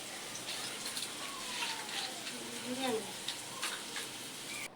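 Onions fry in a pan with a steady, moderate sizzle and hiss, while a voice talks softly over it.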